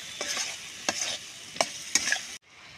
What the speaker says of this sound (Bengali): একটু ভালো করে যতক্ষণ তেল না ছাড়বে ততক্ষণ আস্তে আস্তে কষে নেব।